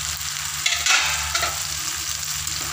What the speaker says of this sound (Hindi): आज हम मसाला भिंडी बना रहे हैं मसाला डाल के। और हम डाल देते हैं भिंडी को